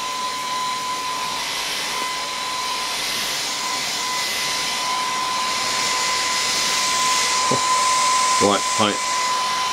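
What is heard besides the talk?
Philips Active Cool 1650 hair dryer on high heat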